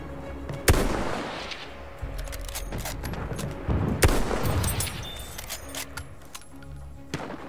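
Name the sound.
enemy artillery barrage in video game Battlefield 1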